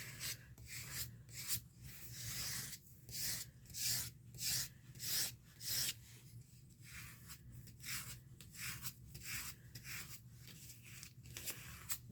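Paper is rubbed by hand onto a gelli printing plate, making soft rhythmic back-and-forth swishes in quick bursts, close and quiet with brief pauses between strokes.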